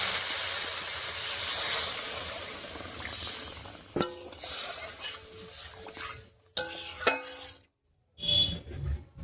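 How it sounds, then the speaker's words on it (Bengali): Water is poured into a pan of Bengali magur catfish curry, giving a hissing, sizzling rush followed by scattered clinks of a utensil and short breaks of quiet, close by. "এবারে ঝোলের জন্য জল দেব।"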